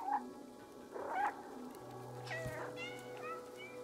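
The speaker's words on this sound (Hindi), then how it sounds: "तो भाई ये बिल्ली है, म्याऊ कर रही है" Cat meows from the video game Stray, several short mewing calls spaced across a few seconds over a low steady game ambience, with a faint low hum underneath.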